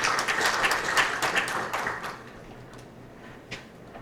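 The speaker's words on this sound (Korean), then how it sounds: "수고해 주신 양승현 교수님께 다시 한번 큰 박수 부탁드리겠습니다." Audience at a Korean product safety information open forum gives a brief round of clapping that fades out after about two seconds, leaving quiet room tone with a single faint knock.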